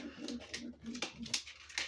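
Soft cooing from a young pied female pigeon close by, a few low murmuring coos with light rustling and faint clicks around them.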